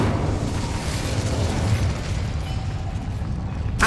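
Incendio fire spell blast in Hogwarts Legacy, a rumbling fiery whoosh and boom that fills a few seconds, dense and fairly loud, ending with a sharp crackle.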